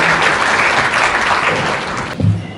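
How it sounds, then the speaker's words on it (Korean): Forum audience at a founding ceremony giving a loud round of applause, steady dense clapping throughout, with a low thump and a brief voice near the end. "힘찬 박수 한번 더 보내주시기 바랍니다."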